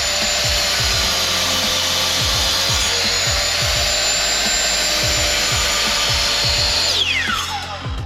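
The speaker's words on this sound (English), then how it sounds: "First, I'll measure and cut all my wood." Steady mechanical whine of a power saw cutting 2x2 and 2x4 lumber, with repeated low thumps and rasping strokes throughout, ending as the blade spins down.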